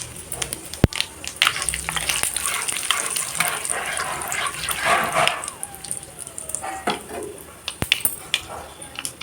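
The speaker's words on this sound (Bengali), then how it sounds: "তেল দিয়ে দিচ্ছি আর দুটো শুকনো লঙ্কা দিয়ে দিলাম।" Dried red chilies and mixed spices sizzle in hot oil in a home kitchen, a crackling fry broken by sharp clinks and utensil knocks, close and fairly loud, with some water-like splashing and a brief muffled voice.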